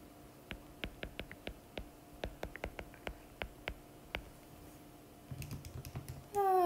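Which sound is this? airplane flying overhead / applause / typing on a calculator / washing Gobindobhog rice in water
typing on a calculator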